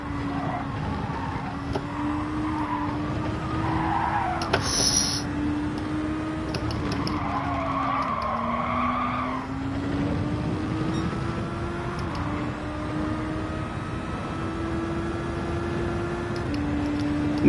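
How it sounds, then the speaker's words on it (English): Gran Turismo 7 race car drifting through corners, a steady engine drone with a wavering tone and a brief tire squeal, continuous and close for the whole stretch. "We drift the right way."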